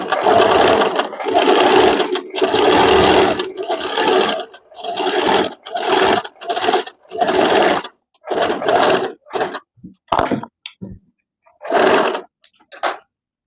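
A sewing machine stitches a tuck into fabric in close, loud bursts of whirring, several longer runs followed by shorter stops and starts separated by silent pauses.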